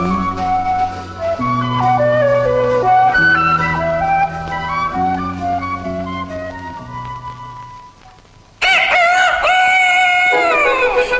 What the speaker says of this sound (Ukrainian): Це півник горлястий, а біля нього курочки чубарочки вишукують серед трави поживу